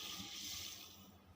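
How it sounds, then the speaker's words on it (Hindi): Half a glass of water pours into a pan to start a sugar syrup for gram flour barfi, a soft, faint, continuous trickle that fades slightly toward the end. "आधा गिलास पानी डालेंगे, 3 इलायची डालिए इसके अंदर"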